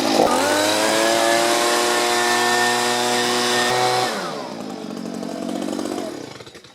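A leaf blower roars steadily and loud up close, blowing grass clippings off an Exmark mower deck, then winds down, its pitch sliding lower before it cuts off.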